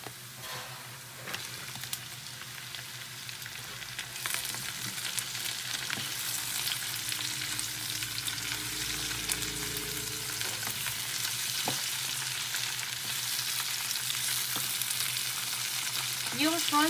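Prawns sizzle and fry steadily in a pan with onions for seafood sotanghon, a continuous close hiss punctuated by occasional stirring scrapes, with no talking.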